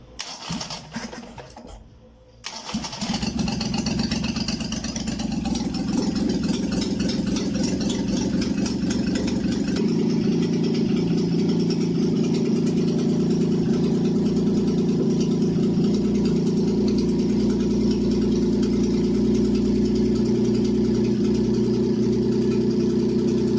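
A car engine is started from outside the vehicle: a brief cranking burst and catch, then a steady, loud idle that runs evenly for the rest of the time.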